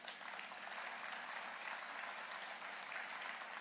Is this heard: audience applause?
yes